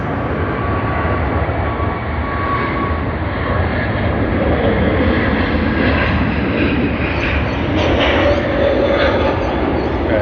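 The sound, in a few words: airliner in broccoli livery at Sydney Airport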